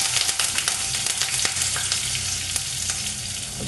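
Curry leaves spitting and crackling in hot oil while tempering rasam, a loud continuous sizzle with sharp pops and stirring scrapes close at hand, no talking.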